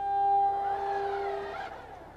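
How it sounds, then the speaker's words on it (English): A slide-out wall motor on a 2023 Thor Motor Coach Delano Mercedes Class C motorhome re-syncing, heard as a steady electric whine with faint tonal hum for about two seconds, fading slightly toward the end. "That sound was the motor syncing back up."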